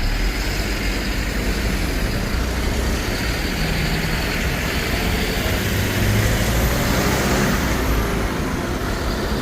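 Continuous traffic on a highway service road, a steady broadband roar of passing vehicles and engines with no distinct individual pass-bys and no talk.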